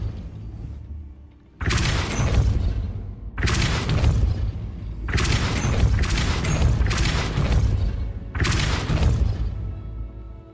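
Spell casting in the video game Hogwarts Legacy, heard as five loud, booming, crashing blasts of about a second or more each, separated by short gaps, with no speech.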